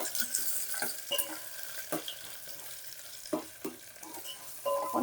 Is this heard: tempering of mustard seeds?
yes